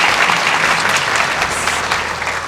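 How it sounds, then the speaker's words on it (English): Steady, dense audience applause at a college scholarship reception, many hands clapping loudly and continuously throughout with no talk over it. "So let's give them a round of applause."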